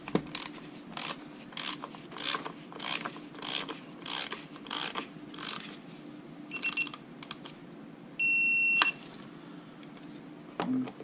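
A hand ratchet clicks in repeated short bursts while bolts are tightened on a 2008 Dodge Charger 3.5L engine, close and fairly quiet in a workshop, with a brief higher whir near the end.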